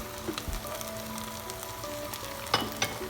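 Carrots dropped into a sizzling pan of vegetable rice pilaf, a steady close hiss of frying with a soft thud early on and a couple of louder crackles and scrapes near the end, no speech.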